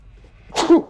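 A single sharp sneeze bursts out near the end after a quiet moment, close and fairly loud.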